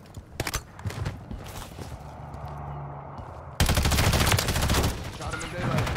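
BAL 27 rifle fire in Modern Warfare 3: loud, rapid automatic bursts of game gunfire, sparse at first and then a dense, sustained volley during the second half.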